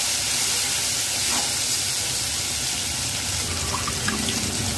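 Water poured into a simmering coconut curry in a pan, producing a steady rushing hiss with steam sizzle, continuous and close.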